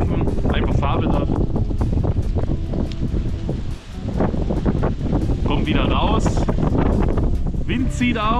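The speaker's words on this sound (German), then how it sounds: "Heute ist es windig wie Sau." Strong, gusty wind buffets the microphone outdoors while playing a mobile Pokémon GO raid, a constant loud roar with someone speaking German over it.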